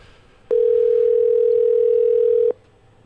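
A telephone ringback plays while a phone number is being called: one steady, loud, close tone lasting about two seconds, with quiet before and after and no talking.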